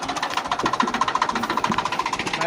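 A Massey Ferguson 240 tractor engine runs close by at work in a farm field, thudding in a fast, even rhythm of loud pulses with no talk over it.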